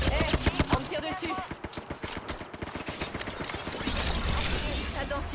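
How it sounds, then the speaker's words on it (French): Rapid gunfire in an Apex Legends match, a dense run of sharp repeated shots through the first half, then a steady battle din while a game voice speaks over it. "On me tire dessus."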